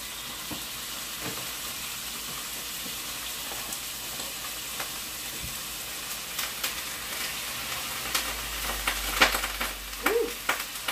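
A steak sizzles steadily in a frying pan over a stove, a continuous close crackle and hiss with small pops and utensil scrapes growing busier toward the end.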